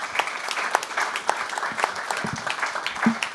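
An audience at an e-health conference applauds, a steady patter of many hands with a few crisp claps standing out, sustained throughout at moderate volume.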